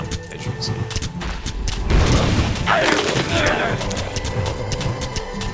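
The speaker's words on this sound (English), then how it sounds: "I waited to throw down another pumpkin bomb, as you can see" A pumpkin bomb going off in World of Warcraft, with a thudding boom and shattering crackle in the middle, amid game clatter and a voice talking over it.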